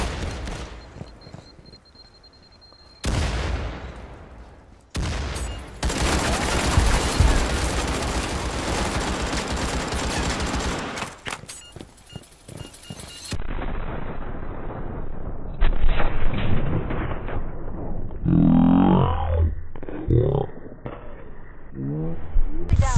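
Gunfire in the shooter game Firewall Zero Hour, loud stretches of rapid automatic shots and blasts broken by sudden cuts and quieter gaps, with muffled shots and scattered noises near the end.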